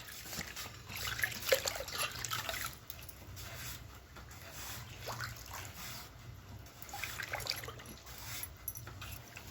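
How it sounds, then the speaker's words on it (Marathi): Grated potatoes are rinsed by hand in a bowl of water in a home kitchen while chips are being prepared. Faint, soft trickling and sloshing of water continues throughout, quiet and close, with no talking. "हे खिसलेले बटाटे मी स्वच्छ धुवून"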